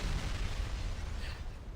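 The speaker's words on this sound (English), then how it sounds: "What was that explosion?" An explosion in the video game Umamusume: Pretty Derby makes a deep rumbling boom with a low, heavy roar that sustains and slowly fades over almost two seconds, loud and alone.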